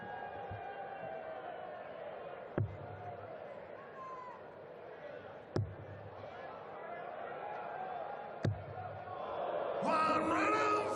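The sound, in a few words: crowd at a darts match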